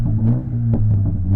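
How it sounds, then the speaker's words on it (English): A 2021 Toyota Supra engine rumbles at idle with a few sharp exhaust pops breaking through, loud and close. "You can hear a difference in the exhaust when you press that."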